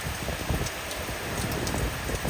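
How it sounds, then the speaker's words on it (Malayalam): Steady rain falls outside, a continuous dense hiss of drops holding an even level throughout with no voices. "പുറത്ത് മഴയുടെ ഈ ശബ്ദമൊക്കെ കേട്ടപ്പോഴാണ്."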